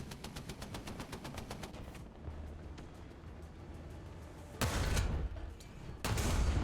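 Rapid, steady bursts of autocannon fire from an enemy tank in the Landships video game, a fast rhythmic hammering for about two seconds, then heavier loud blasts and rumbling impacts near the end.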